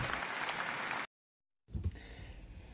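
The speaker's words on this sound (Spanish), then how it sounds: "Un aplauso, por favor, súper merecido" Applause for award winners at a digital marketing awards ceremony comes as a steady, fairly quiet clapping burst, then drops to silence and is followed by softer room noise.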